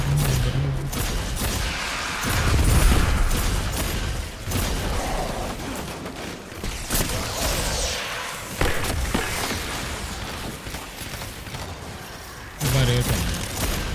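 Gunfire and impacts in Destiny 2 during the Pinnacle Ops Devil's Lair mission, dense bursts of shots, booms and thuds running continuously under game music and effects.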